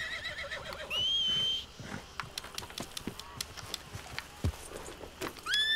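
A horse in the video game Red Dead Redemption 2 whinnies twice in high, wavering calls, with quick uneven hoof clops tapping between them.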